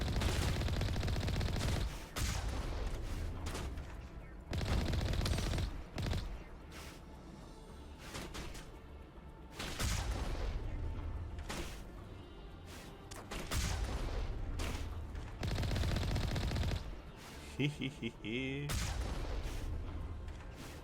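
Gunfire from the video game Mass Effect Legendary Edition: dense, loud bursts of automatic weapon fire and heavy booms, with short breaks, running almost continuously amid other combat effects.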